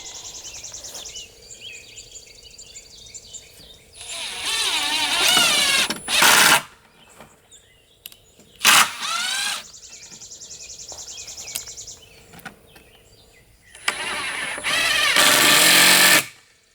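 A screw is driven into a wooden cubby shelf with a power tool. Several loud, whirring bursts of varying length are separated by short pauses, and the last burst is long and sustained.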